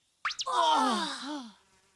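Cartoon buzzing of flies swarming around a troll: a short, loud, wavering tone that swoops up and down for about a second before fading out.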